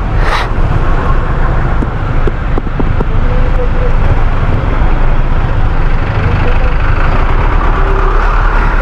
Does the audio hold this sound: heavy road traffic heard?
yes